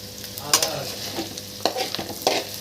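Paneer pieces fry in butter in a kadai as they are stirred: a steady close sizzle with sharp scraping strokes of the spoon at regular intervals.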